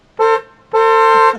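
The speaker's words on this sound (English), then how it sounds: "Give him a honk." A car horn honks twice up close, a short loud toot followed by a longer blast.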